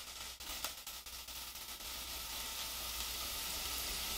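Sofrito sizzles in olive oil in a pan, a steady, soft hiss of frying with a few faint clicks early on, continuing evenly without voices.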